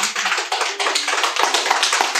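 A workshop audience claps together in a dense, loud burst of overlapping hand claps that runs without a break.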